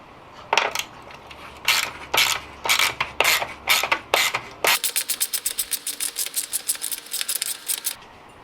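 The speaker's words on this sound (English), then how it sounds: "now using a 10mm socket, we're going to loosen up these two bolts here" Ratcheting 10mm socket wrench loosening two bolts on the intake of a Jeep JL 3.6L V6: scattered metallic clicks at first, then a fast steady run of close, crisp ratchet clicks, with no talking.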